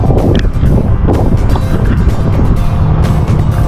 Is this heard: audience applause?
no